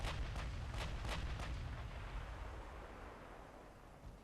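Heavy warship guns fire in a naval battle game, several booming salvos in the first second and a half with sharp onsets, then a long rumbling decay and low roar with no talking.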